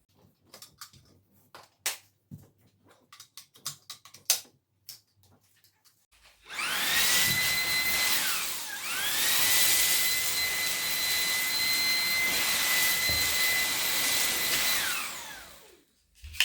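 Xiaomi Dreame V11 cordless stick vacuum cleaner switching on after some light handling clicks, then a loud, steady high-pitched whine with a brief dip midway, running close for several seconds before cutting off.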